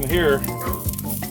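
Trout fillets coated in bold Creole seasoning sizzle and crackle steadily on a very hot grill, close and fairly loud, while a person talks over the frying.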